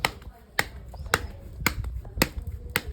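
Hands pat and shape desi rotla dough in a home kitchen, a steady rhythm of crisp slaps about twice a second, fairly close, with soft rustling and faint murmuring between the beats.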